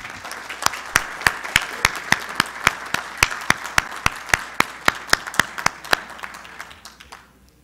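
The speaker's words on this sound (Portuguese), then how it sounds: "Obrigado aos colegas e o nosso aplauso" Applause at a plenary meeting, a run of sharp, evenly spaced claps in a steady rhythm that carry on for several seconds before trailing off at the end.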